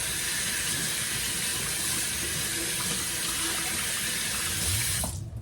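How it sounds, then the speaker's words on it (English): Peeled potatoes rinsed under a steady stream of running tap water in a kitchen sink, a constant loud gush that continues without break until it cuts off abruptly near the end. "all the potatoes has been peeled and I'm gonna go ahead and rinse them off"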